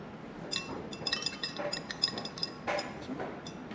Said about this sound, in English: Give them a stir.